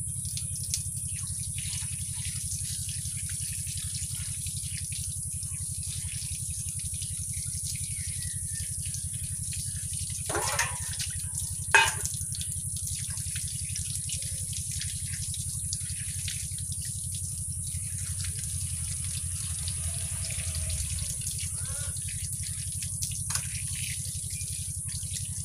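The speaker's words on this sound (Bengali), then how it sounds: "এই যে মাছটাকে ধুয়ে নেব।" Tap water runs steadily into a sink while fish is washed in a home kitchen, a faint continuous trickle with a few brief splashes and clatters, heard alone.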